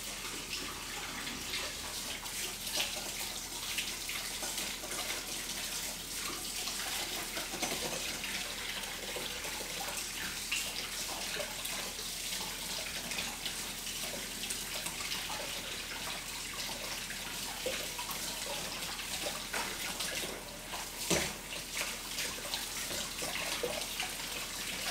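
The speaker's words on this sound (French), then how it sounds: "l'eau chaude elle était longue à venir là." A kitchen tap runs steadily while waiting for hot water, a continuous even gush of water filling the whole stretch without pause.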